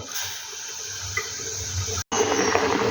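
Fish pieces being put into a pot of water for boiling, heard as continuous watery splashing and pouring, with a brief break near the end before the liquid rush resumes.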